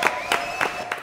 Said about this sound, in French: Ah bah applaudissements alors